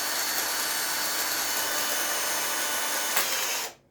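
A cordless APRO drill-driver, made in China in 2023, running at speed with a steady high whirring motor whine, loud and close, then cutting off abruptly near the end.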